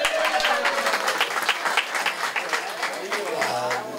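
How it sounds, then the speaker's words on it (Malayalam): An audience claps together in dense, sustained applause at a live song performance, the steady wash of hands running the whole time with voices mixed in. "ആ നിങ്ങളെല്ലാവരും ഒന്ന് കൈയടിച്ചേ"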